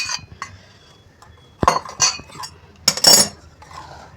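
A spoon clinks and scrapes against a bowl while salt and turmeric are stirred into lemon juice, with several sharp, close metallic taps in quick irregular succession.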